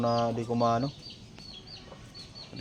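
A backyard Talisay stag rooster gives a loud burst of harmonic clucking calls at first, then quieter, scattered chirps and clucks follow.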